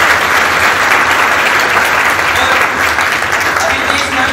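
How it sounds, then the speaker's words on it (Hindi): A school audience at Noble Academy in Narwana gives loud, dense applause for Bhagat Singh. The clapping is close and continuous for about four seconds. "एक बार भगत सिंह के लिए जोरदार ताली।"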